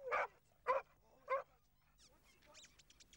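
A collie trained as a search and rescue dog barks three times in a steady rhythm, fairly close, followed by softer yips and whimpering sounds.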